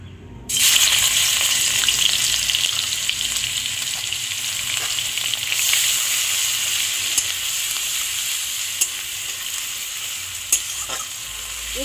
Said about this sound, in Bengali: এবার ওই অর্ধেক ঘষা পেঁয়াজটা এই তেলের মধ্যে দিয়ে দেবো।